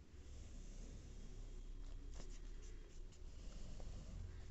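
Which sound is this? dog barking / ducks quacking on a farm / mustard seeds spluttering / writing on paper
writing on paper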